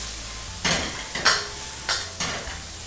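Yellow chives tossed in a hot wok over garlic, with four separate bursts of stirring and sizzle spaced about half a second apart over a quiet background.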